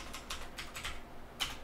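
A computer keyboard on a Kali Linux machine clicks through a few quick keystrokes, faint and close, spaced in a loose rhythm with one sharper tap near the end and no voices.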